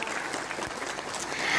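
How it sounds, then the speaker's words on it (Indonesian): Audience applauding at an Indonesian religious sermon gathering, a continuous patter of many hands clapping at moderate distance, swelling slightly toward the end. "Tepuk tangan dulu dong buat polisi Indonesia."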